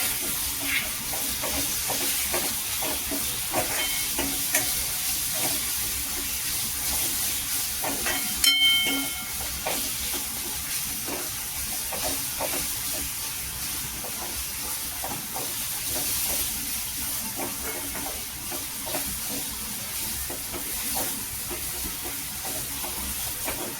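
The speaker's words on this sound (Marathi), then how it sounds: "त्याला कच्चा आवाज जाऊपर्यंत मला थोडा परतून घ्यायचा" Food sizzles and hisses steadily in a hot pan, with occasional stirring clinks, as it is sautéed for a potato recipe until the raw smell cooks off.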